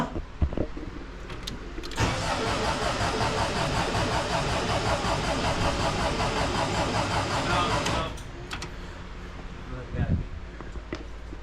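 An air-cooled VW Vanagon engine cranks and catches after a couple of seconds, then runs loud and steady for about six seconds before cutting off, with faint clicks and movement around it.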